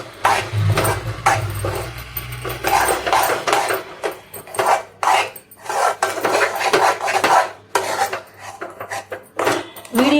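Grated jaggery being mixed into mango halwa, giving continuous close scraping and rubbing of a metal spoon against a pan with frequent clinks, steady and fairly loud throughout.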